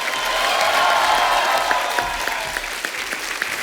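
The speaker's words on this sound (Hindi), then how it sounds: "जोरदार तालियां होनी चाहिए।" A television comedy show's studio audience applauds a guest's entrance, a dense, steady clapping that stays loud throughout and thins slightly toward the end.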